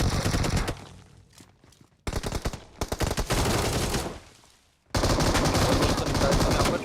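M249 light machine gun bursts in BGMI, the mobile battle royale game, rattle out in long dense volleys broken by a couple of brief pauses, loud and close throughout.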